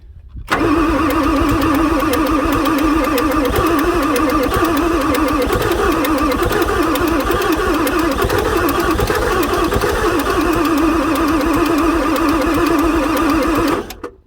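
A 1994 Ford F450 with a 7.3 diesel and a no-start fault cranks on its starter in one long, loud, unbroken run, the starter's rhythmic churning steady for about thirteen seconds before it stops abruptly, with no talking.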